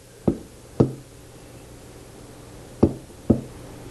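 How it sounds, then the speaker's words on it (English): A hand-built clay cylinder for a bird feeder is tapped to straighten it, giving four short, dull knocks in two pairs, close and fairly quiet, with no talking. "So I'm just going to tap it"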